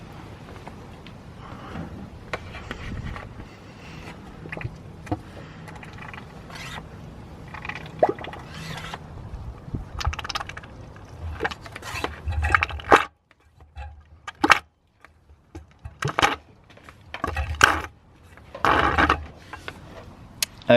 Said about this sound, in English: now I can begin sucking the old fluid out